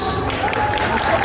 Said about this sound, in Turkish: Karabağ zaferi için sevilenler bir alkış